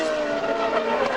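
A CART race car in qualifying at Laguna Seca locks its left front wheel under braking into a corner, giving a loud, sustained tire skid over the roaring engine for about a second.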